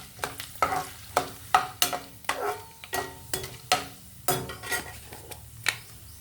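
Cumin and fenugreek seeds dropped into hot oil for a tempering, crackling and spluttering close by, punctuated by repeated sharp metallic taps of a spoon against the pan, no voices.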